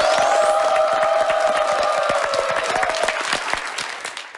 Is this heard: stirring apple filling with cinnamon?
no